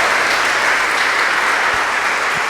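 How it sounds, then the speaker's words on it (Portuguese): A church congregation applauds a couple at Mass, loud dense clapping from many hands held at an even level throughout, with no voices. "uma salva de palmas ao casal"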